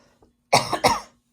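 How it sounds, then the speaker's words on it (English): A single person gives a short, close double cough, two quick rough bursts after a moment of near silence. "Maybe I'll actually get rid of this cough."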